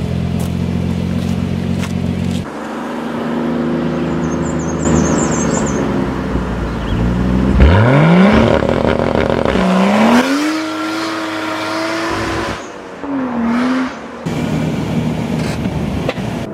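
A race car launches hard on an empty road outside town. The engine roars loud and close, climbing through rising revs with distinct gear changes and brief dips between pulls. No one speaks.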